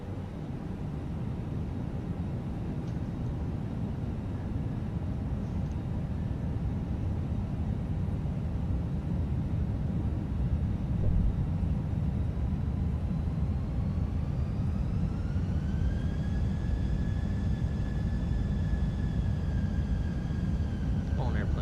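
A Fenix A320 airliner's engines in Microsoft Flight Simulator hum steadily as a low cockpit drone under a voice. Late in the clip a rising whine swells as the engines spool up on final approach.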